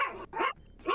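A dog in GTA V Online barks in a quick series of sharp bursts, close and fairly loud, with short gaps between them and no talk over it.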